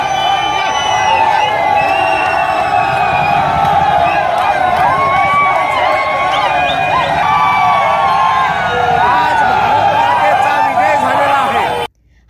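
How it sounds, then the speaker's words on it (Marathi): A street crowd of cricket fans celebrating India's World Cup win in Amravati roars continuously, loud and close, with shouting, whoops and chant-like voices packed together before cutting off abruptly at the end. "यावेळी इंडिया इंडियाचे नारे लगावत टीम इंडियाच्या विजयाचा आनंद व्यक्त केला"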